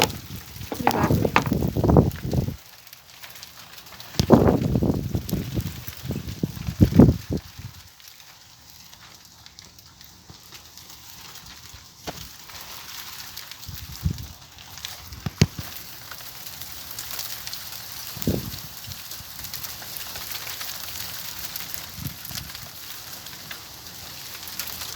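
Hail falls and bounces during an April hailstorm, with dense pattering bursts in the first several seconds, then sparser, scattered impacts and quieter patches over a soft background hiss.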